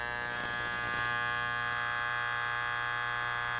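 Wahl AC-powered hair clipper buzzing steadily after its power screw is turned, a constant electric hum with a high rattling whine, fairly faint and close, no talking.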